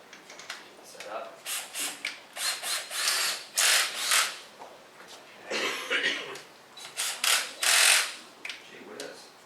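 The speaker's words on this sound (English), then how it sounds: "Now we got one more hole to drill." A power drill bores a hole in bursts: about a dozen spurts of whirring and grinding, each lasting under a second, with brief pauses between them, heard close up.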